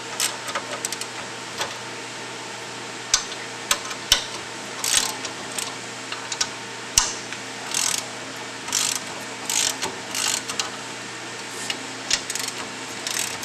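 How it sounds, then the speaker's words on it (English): A hand ratchet works the spring plate bolts loose on a Weasler clutch, with bursts of quick clicking strokes repeating in uneven rhythm and short pauses between, close and fairly quiet. "As the spring plate loosens, these bolts will become looser."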